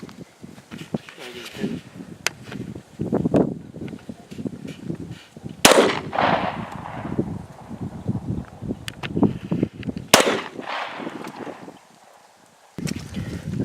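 .40 caliber rounds are fired at a brake rotor: two sharp, loud gunshots ring out several seconds apart, amid shuffling, handling noise and people talking.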